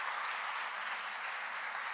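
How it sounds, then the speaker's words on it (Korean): A church congregation claps to welcome a guest, a dense, steady patter of many hands that stays even throughout, with no voices over it. "잠깐 일어나시면 박수로 환영하겠습니다"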